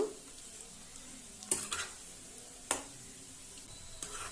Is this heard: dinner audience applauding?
no